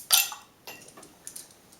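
A homebrewed dark ale bottle being opened: a sharp cap pop and metallic clink up close, followed by a few faint small taps and clinks in an otherwise quiet room.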